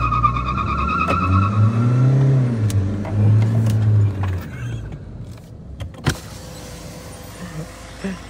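A Mahindra Scorpio and a Honda BR-V drag race side by side, engines droning loud and close with rising, wavering tones before easing off into a few scattered clicks and knocks.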